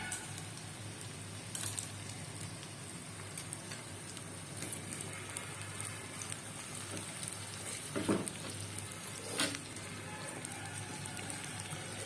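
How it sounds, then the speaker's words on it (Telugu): Chopped onions fry in hot oil for a restaurant-style chicken dum biryani, a faint, even crackle like light rain, with a couple of brief clinks and scrapes breaking through. "సో ఈ ఆనియన్స్ బ్రౌన్ కలర్లో ఫ్రై అయిన తర్వాత"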